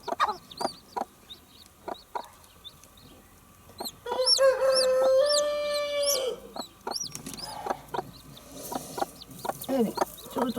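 Newly hatched chicks in an incubation setting, one of which hatched with its air cell on the wrong side, peep in high, repeated chirps close by, with some fowl clucking mixed in and a steady tonal note partway through.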